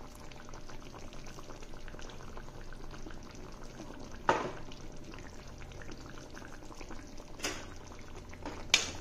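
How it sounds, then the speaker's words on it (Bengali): Chicken stew with beans boiling in a pot, with a steady low bubbling that goes on throughout and a couple of brief louder pops and clicks. "তারপর আরও কিছুক্ষণ ফুটতে দেব।"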